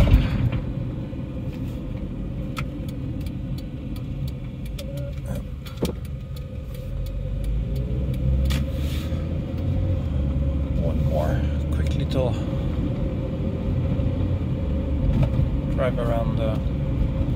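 A 1996 Honda Orthia with a B20B engine and front-wheel drive rolls along at low speed, its engine rumbling steadily with clicks and small mechanical rattles throughout; someone speaks over it.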